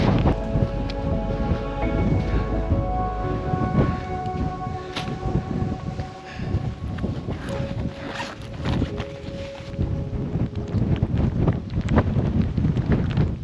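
Strong wind gusting across an exposed ski ridge in Niseko while rain cloud drifts over, a steady loud roar buffeting the camera microphone with broadband noise throughout, no talking.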